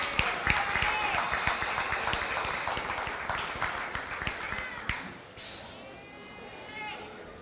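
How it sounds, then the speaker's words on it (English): Loud crowd applause with dense clapping at a county fair goat show, fading after a few seconds as a voice speaks over an echoing arena, with a few goat bleats. "Let's give her a big round of applause"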